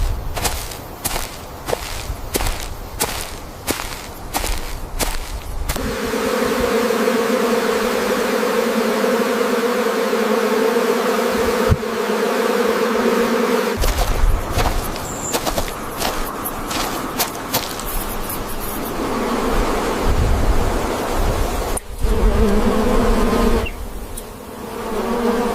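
Bees swarm and buzz around a large golden wild beehive hanging from a towering tree branch, a dense continuous drone that holds steady through the whole stretch, with a few brief rustles and taps near the start.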